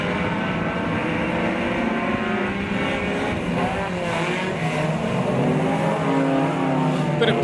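Super stock race cars lap a track together, their engines roaring loudly and steadily in a dense, overlapping drone that shifts in pitch as they pass.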